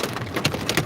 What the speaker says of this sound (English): Oh, this is bigger hail than before.